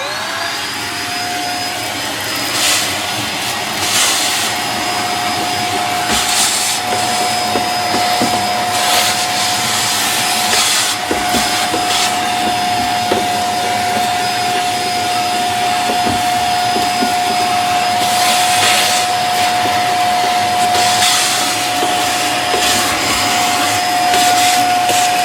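A vacuum cleaner runs steadily throughout, picking up drilling debris and cobwebs around a cabinet, with a constant high whine and broadband roar, close and loud, with occasional bursts as the nozzle moves.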